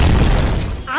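A cartoon cannon fires a single booming shot with a crashing, shattering edge, loud and close within a brief burst.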